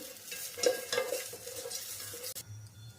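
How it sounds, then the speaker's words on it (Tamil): Onions sizzling and frying in a pan, with a few scraping stirs of a utensil against the pan partway through. "ஸோ இப்போ ஓரளவுக்கு வெங்காயம் நல்லா வதங்கட்டும்."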